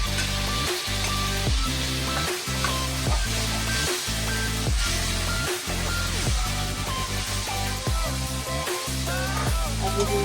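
Onions and tomatoes frying in a pan over low gas heat give a steady, close sizzle that runs throughout, with irregular clinks and stirring knocks on top.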